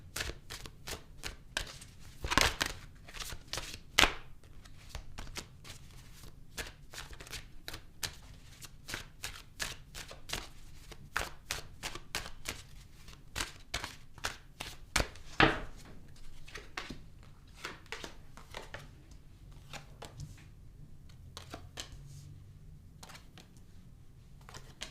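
Tarot cards being shuffled and pulled from a deck, a long run of dense, crisp riffling clicks and slaps, with a few sharper snaps standing out, close and steady throughout.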